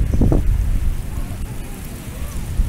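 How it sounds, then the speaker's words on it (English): Heavy storm with steady rain washing over surfaces and low thunder rumbles, a dense, continuous roar heard close with no pause. "Mega storm."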